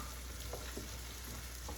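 Onions fry in a pan with a soft, steady sizzle, faint and unbroken over a brief moment, with no voices.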